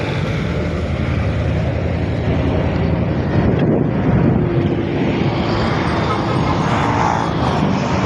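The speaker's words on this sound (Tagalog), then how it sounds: "Nakakatakot tumawid kasi malalaki yung mga truck." Heavy road traffic on Quirino Highway, with large trucks passing close by in a steady, loud rumble that fills the whole stretch, mixed with wind buffeting on the microphone.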